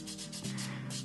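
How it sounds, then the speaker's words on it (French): A nail buffer rubs across a fingernail to remove surface oil before polish, giving a close, steady scratchy swishing made of several quick back-and-forth strokes with no talking. "je viens mettre un coup de polissoir pour retirer la graisse qui se trouverait au-dessus de l'ongle"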